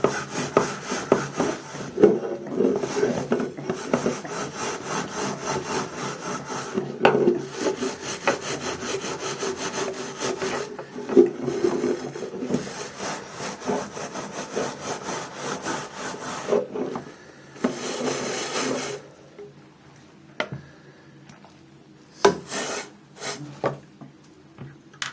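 A dish soap bar is scrubbed hard against grime, giving a steady rasping rub in long repeated strokes close by, then pausing into scattered short scrapes near the end.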